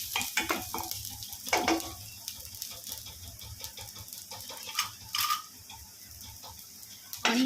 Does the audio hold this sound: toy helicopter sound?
no